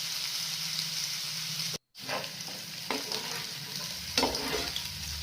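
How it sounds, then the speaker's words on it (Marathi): Finely chopped onion sizzles in hot oil for a clam curry, a steady frying hiss broken by a brief cut, then stirring scrapes and crackles, close and moderately quiet. "एक बारीक चिरलेला कांदा टाकायचा तेलामध्ये।"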